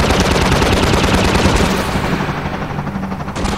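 Rapid automatic gunfire from a combat gunship in Half-Life 2, a loud continuous burst of shots lasting a few seconds with no talking over it.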